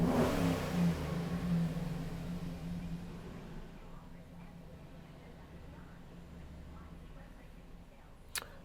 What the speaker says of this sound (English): it's going to tell us accelerate wide open throttle.